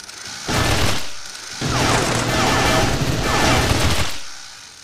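Machine gun fire in the survival game Mist Survival: two loud, sustained bursts of rapid automatic shots with a short gap between them, close and booming.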